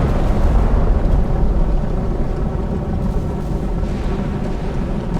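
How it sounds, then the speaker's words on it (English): Distant explosions rumble on in the Sea Power naval wargame as a 1983 Mediterranean supply fleet is destroyed, a continuous low, roaring wash with no distinct separate blasts standing out. "those explosions in the background, that's the supply fleet getting absolutely wrecked"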